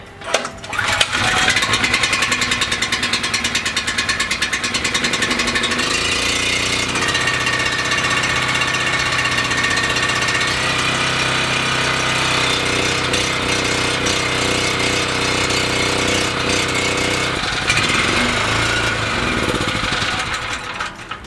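A portable generator engine starts abruptly and keeps running, loud and close, with a steady buzzing drone that shifts pitch slightly partway through and holds for about twenty seconds.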